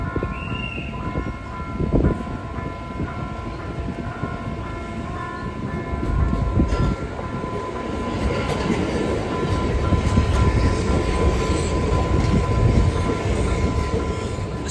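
Electric suburban train on the Sarmiento line in Buenos Aires, a steady rumble of rolling wagons with faint wheel clatter and squeal that swells louder midway, heard from on board with no talk.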